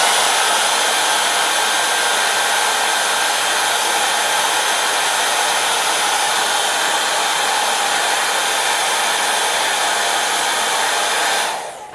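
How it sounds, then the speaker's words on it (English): A hair dryer blows steadily at close range over a watercolor painting for nearly the whole stretch, a loud broadband whoosh that cuts off abruptly at the very end. "I'm just going to turn the hairbrush, I keep calling this a hairbrush, hairdryer,"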